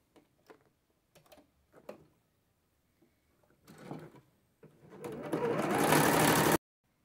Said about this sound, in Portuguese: nós vamos passar a costura, gente, ó. Toda essa volta e deixar só aqui em cima aberto